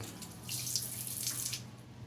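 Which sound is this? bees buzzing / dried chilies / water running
water running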